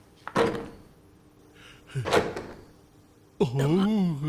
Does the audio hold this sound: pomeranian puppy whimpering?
no